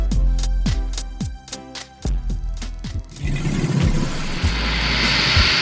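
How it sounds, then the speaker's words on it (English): First comes a rhythmic musical passage. Then a propeller airplane roars in, loud and steady, with a broad engine rumble and a hiss that fills the rest of the clip. "Airplane."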